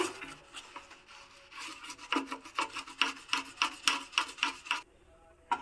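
Scrubbing of gas stove burner parts during cleaning: a rough, rasping rub that starts faint and grows into a series of quick back-and-forth strokes, close up with no talking.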